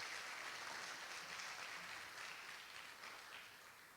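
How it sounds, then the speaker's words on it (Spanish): Church congregation applauding during a Sunday service, faint steady clapping from a crowd that tapers slightly at the end, with no talking over it. "Dele un aplauso al Señor."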